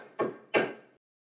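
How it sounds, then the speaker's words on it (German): Two firm knocks on a wooden inn door, spaced about a third of a second apart, each close and resonant with a short decay, followed by silence. "klopfte an die erste Tür eines Gasthauses"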